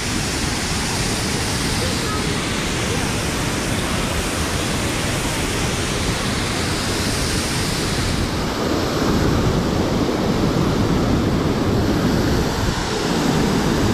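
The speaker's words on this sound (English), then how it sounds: "That's the Passaic River that is flowing over the falls." Passaic River water pouring over the Great Falls in northern New Jersey, a loud, steady broadband roar that fills the whole stretch, swelling slightly toward the end with a windy rush on the microphone.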